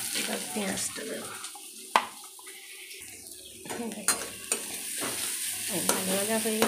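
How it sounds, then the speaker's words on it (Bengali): Onion stirred in hot oil in a pan, with steady crackling and sizzling, intermittent spatula scrapes and sharp metal knocks close up, faint voice-like sounds underneath. "রসুনটা লাল লাল হয়ে গেছে, এবার পেঁয়াজটা দেবো।"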